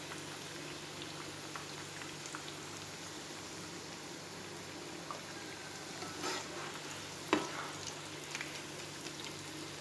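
Chicken popcorn deep frying in hot oil, heard as a faint, steady bubbling crackle that continues without a break and has no voices over it.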